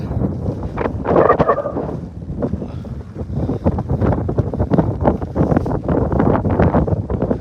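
Strong wind on the summit of Pen y Fan roars and buffets close against the microphone in loud, uneven gusts, a constant rumbling rush with no voices.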